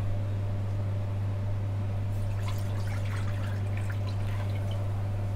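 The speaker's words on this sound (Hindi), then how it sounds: "सबसे पहले हम कढ़ाई में 1 लीटर पानी डालेंगे" A steady stream of water, about one litre, pours into a metal wok, splashing softly over a constant low electrical hum.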